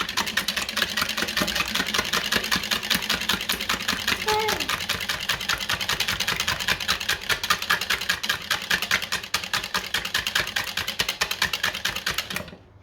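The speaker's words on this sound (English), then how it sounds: "Now we're just going to whisk the eggs" Eggs whisked in a bowl for baked custard, a fast continuous rhythmic clatter of the whisk close up, steady throughout before stopping at the end.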